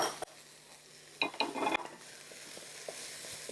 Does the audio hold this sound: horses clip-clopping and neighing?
no